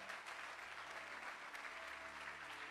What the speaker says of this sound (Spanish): Si lo va a aplaudir, hágalo fuerte.